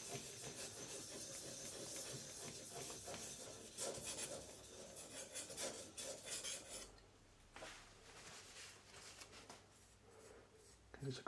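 The iron of an old Stanley-style No.4 hand plane is rubbed on a sharpening stone until a burr forms, a faint, continuous rasping scrape with uneven strokes that eases off toward the end.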